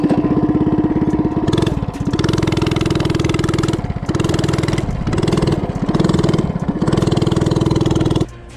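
Coleman CC100X minibike with its governor throttle linkage unhooked, engine running hard at a steady loud drone, with a few brief dips in pitch as throttle eases and returns, close and continuous throughout.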